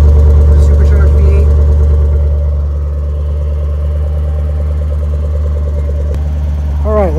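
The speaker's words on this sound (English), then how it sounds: "You can hear that glorious quad exhaust, the supercharged V8." A 2019 Range Rover Sport SVR with a supercharged V8 and quad exhaust idling: a steady, deep rumble that is loud and close, easing slightly after the first couple of seconds, with a brief voice near the end.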